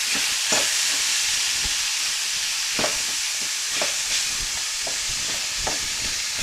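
Lean ground meat sizzles steadily in a frying pan while a utensil stirs it, giving a constant hiss broken by several sharp scraping strokes at an uneven pace, close and moderately quiet.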